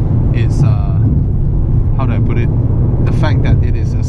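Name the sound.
Mercedes-Benz C200 1.5 turbo engine at high speed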